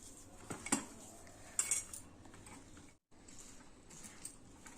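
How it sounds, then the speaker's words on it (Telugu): Aloo paratha filling of potato being mixed in a bowl, with a few sharp metallic clinks of a spoon against the dish over a faint, soft background, no voices. "బాగా కలుపుకోండి"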